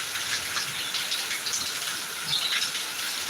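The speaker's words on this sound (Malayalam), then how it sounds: "നല്ല മഴ പെയ്യുന്നുണ്ട് കേട്ടോ" A heavy downpour in Thiruvananthapuram makes a dense, steady hiss of rain on surfaces nearby, with faint chirps of a bird now and then over the constant wash of water.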